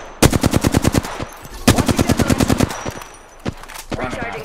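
Automatic weapon fire in Apex Legends rattles out in rapid bursts, loud and close, with a short pause between volleys and a few single shots near the end.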